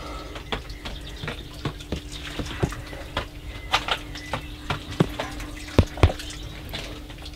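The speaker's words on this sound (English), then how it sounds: "Now it's time to water them" Water trickles and drips onto capillary matting around potted plants at dusk, an irregular series of close splashes and patters over a low steady background hum.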